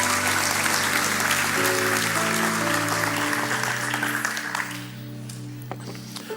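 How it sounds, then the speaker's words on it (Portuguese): A church congregation applauds steadily for several seconds with sustained organ or keyboard chords underneath, the clapping thinning and fading near the end. "Dê o melhor aplauso que você pode dar ao Senhor."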